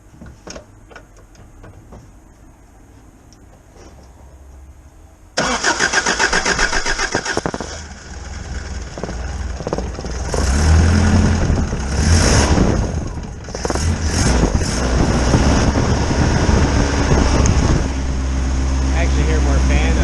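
A car engine fitted with a homemade exhaust built from junk cranks and fires, then settles into a loud, rough, uneven idle with surging rises and dips, close by and with no talking.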